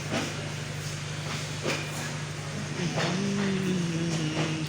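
The Chitra Express stands at Kotchandpur railway station at night, a steady low engine hum and hiss continuing throughout, with brief tonal squeals and clanks rising near the end.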